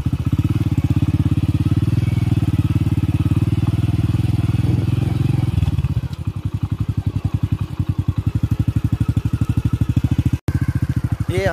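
A motorcycle engine runs close by at a horse race in the Vekriya Rann, first a dense steady roar, then a rapid even put-put idle after about six seconds, with one brief dropout near the end.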